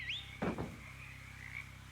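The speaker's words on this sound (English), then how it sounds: "Distant frog sounds become less distant frog sounds as you find yourself very close to lots of frogs." Frogs croaking in a bog within the video game Shadows Over Loathing: a close burst of rasping croaks near the middle over a steady low hum, with a high chirping call trailing through.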